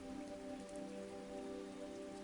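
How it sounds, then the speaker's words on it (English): Steady rain falls on a surface, a dense, even patter with no break, moderately quiet and alone. "The rain was still falling."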